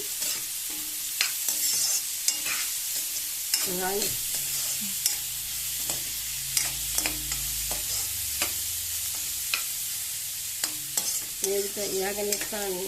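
Vadiyalu frying in hot oil with green chillies and curry leaves, a steady close sizzle broken by repeated sharp stirring scrapes of a spoon against the pan throughout, with no talk.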